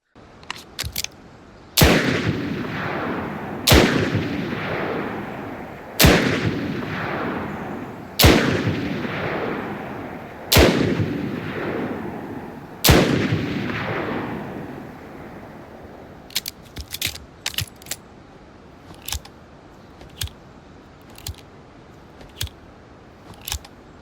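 A Colt Python revolver fired in the video game Blackhawk Rescue Mission 5: six loud, evenly spaced shots, each with a booming echo tail, followed by a string of quieter mechanical clicks.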